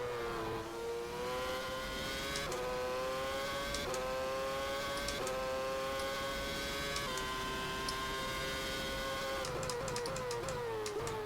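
Simulated F1 engines from the 2010 season in rFactor F1 2010 at the Australian Grand Prix, a steady high-pitched whine from several cars rising and dropping through quick gear shifts, continuous and loud throughout.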